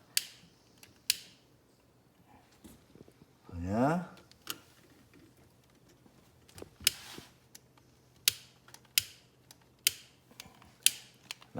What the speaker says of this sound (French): Ça marche pas fort, le briquet.